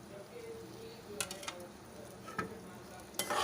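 Green chillies drop into a pan of oil over a low flame, giving a soft, close sizzle with a few light clicks and scrapes from stirring.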